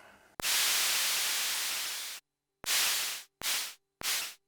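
Bursts of harsh white noise from the noise channel of a Soviet Lel UDS drum synthesizer: one long hissing burst, then three shorter ones with sharp starts and quick fades, loud and alone.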